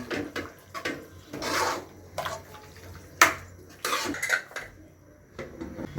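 Chicken liver fry being stirred in a pot with fresh coriander, giving several bursts of scraping and metal clinks from the spoon against the pot, close and fairly clear with quiet gaps in between.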